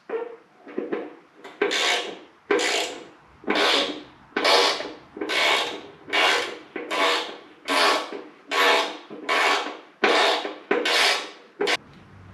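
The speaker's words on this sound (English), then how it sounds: "Now since these are Phillips head screw, I'm actually going to ratchet them into place." Hand ratchet driving Phillips head screws into the rear fender of a 1979 Harley Davidson FLH Shovelhead, about eleven evenly spaced rasping clicks in a steady back-and-forth rhythm, close and clear, with no talking.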